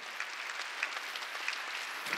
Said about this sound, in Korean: 본 사람만 박수쳐.